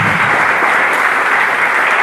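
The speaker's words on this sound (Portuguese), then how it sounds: "Dá só de palmas para Jesus." Congregation clapping hands in a church worship service, steady dense applause filling the room, loud and close with no pauses.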